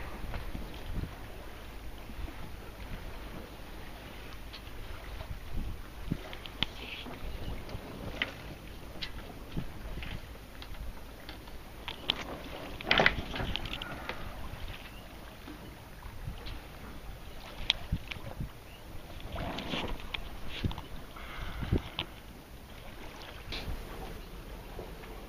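A sailboat heading back into harbour after an afternoon of sailing in December, with steady wind and water noise on the open water, hull and rigging sounds close by, and brief knocks scattered throughout.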